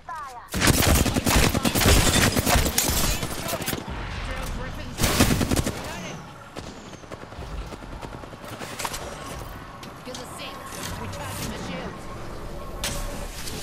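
Bursts of rapid video game gunfire, with heavy machine-gun volleys loud at the start and sparser, fainter shots later, under talk.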